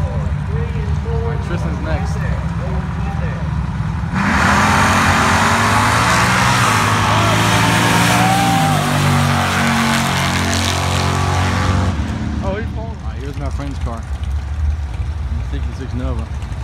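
Drag racing car at Kinston, NC drag nights launching and accelerating down the strip, a loud sustained roar of several seconds that rises then cuts off, with crowd chatter and voices before and after.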